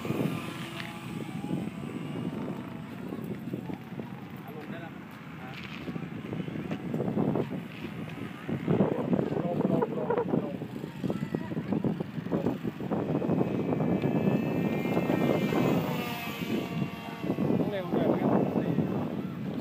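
A radio-controlled Cessna 337 model plane with 1.5 m wingspan and twin propeller engines drones overhead outdoors, its buzzing rising and falling in loudness while people talk throughout.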